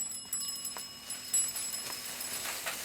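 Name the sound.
bicycle bell ringing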